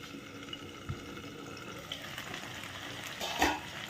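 Potato, brinjal and pumpkin cook in a covered pan over a low flame and get stirred, giving a faint, low sizzle with a couple of soft scrapes and a slightly louder clatter near the end.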